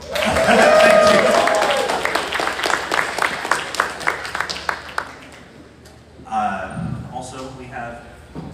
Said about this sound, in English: Also clap for him.